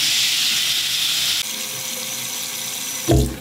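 A tap runs steadily for a few seconds during a morning routine, a loud, close hiss of flowing water that changes tone partway through and ends with a low thud.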